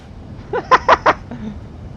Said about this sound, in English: Oh, it even has a depot whistle.